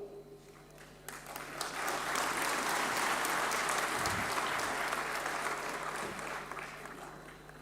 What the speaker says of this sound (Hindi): मेरे बोलने पर आप तालियां बजा रहे हैं